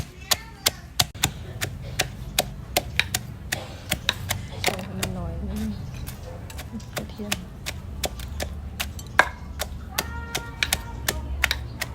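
Chili and garlic seasoning is pounded in a mortar with a pestle, giving steady, sharp knocking thuds in a quick regular rhythm, close and clear while someone talks over it.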